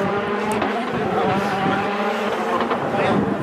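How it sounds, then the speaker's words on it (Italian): A Citroën C3 rally car at the 2018 Monte Carlo Rally brakes hard, its engine roaring and tires scrubbing in a loud, continuous burst, with crowd noise and a voice faintly underneath. "inchiodata"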